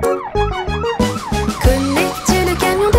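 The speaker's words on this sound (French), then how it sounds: "une sirène et un gyrophare" Cartoon fire truck siren wailing loud and close in a repeating up-and-down cycle over a bouncy children's song beat, with no talking.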